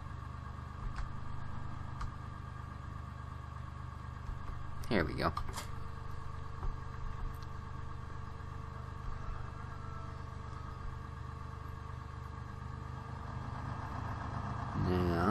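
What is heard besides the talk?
tractor engine running, from video game Farming Simulator 2013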